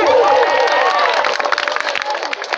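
An audience at a village performance event in Dhanora Baniyagaon, Kondagaon district, claps and cheers for the performers, a dense, loud crowd roar with shouting voices that thins slightly toward the end.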